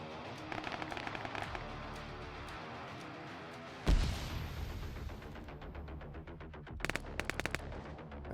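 Gunfire rings out in a capture-the-flag shooter match, with sharp bursts of shots, a loud blast near the middle, then rapid clustered firing toward the end over a steady game soundscape.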